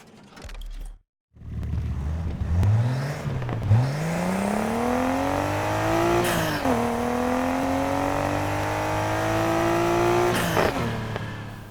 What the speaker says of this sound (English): let's pick up an R32 so I can show you how it sounds